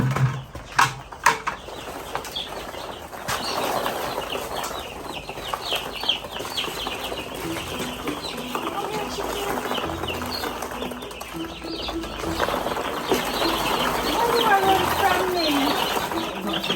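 Chickens on a rural farm in Jamaica cluck and flap their wings, busy and moderately close, a few sharp bursts at the start, then steady clucking mixed with other birds while someone talks now and then.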